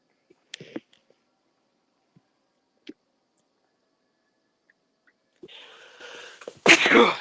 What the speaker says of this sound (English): Surprised I didn't sneeze twice.